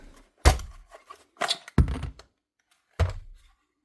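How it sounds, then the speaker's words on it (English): Paslode nail gun igniting its spark, giving four sharp separate clicks and thunks spaced irregularly, close and fairly loud in otherwise near silence. "you can hear the click whenever you ignite the spark"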